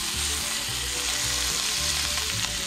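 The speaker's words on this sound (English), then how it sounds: "Hot pan, got some sausage." Spicy jalapeño sausage frying in a hot pan, giving a steady close sizzle throughout with a low rhythmic hum beneath.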